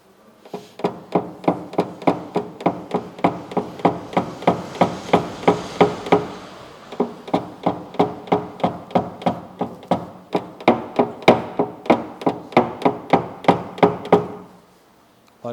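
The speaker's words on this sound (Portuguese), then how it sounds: "Poderia já bater direto com o martelo? Poderia, mas eu quero utilizar o pino." A hammer taps a metal pin against a car body panel during paintless dent repair, dozens of sharp, evenly spaced metallic knocks in a steady rhythm, close and loud, with a short pause midway.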